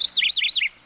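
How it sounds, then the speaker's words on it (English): A small cartoon bird lets out a quick, high-pitched burst of four or five bright chirps in rapid succession, clear and close, with no voices. "Wow, it's a cute little bird."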